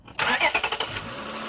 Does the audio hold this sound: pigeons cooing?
no